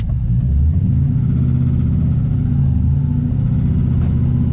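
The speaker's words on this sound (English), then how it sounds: "I'm just gonna drive around this park just because I don't want to be on the street right now." LS V8-swapped BMW E46 driving slowly around a park on its first drive, a deep steady engine rumble close and loud throughout, with no talking.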